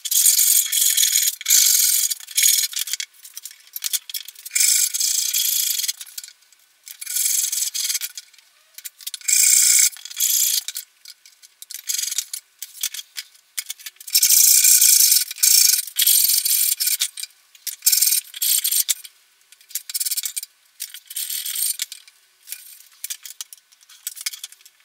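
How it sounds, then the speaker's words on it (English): A saw rasp files back and forth across the heel of an SG junior style guitar neck, making harsh, close, bright scraping strokes in uneven bursts with short pauses between them. "the saw rasp will make short work of getting this flat and even"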